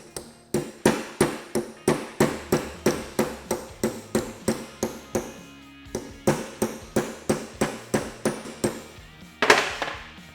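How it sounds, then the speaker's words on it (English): A mallet strikes a flat punch to seat a part on a SuperATV 8-inch GDP portal gear hub, giving a long, steady series of sharp, close metallic hammer blows roughly every half second, with one louder hit near the end. "Tap it in as far as it'll go with the mallet. And you're going to take your punch"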